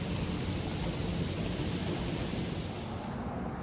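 A hotel hot tub bubbles and churns with a dense, even wash of hiss that holds steady and close for several seconds, with no voices.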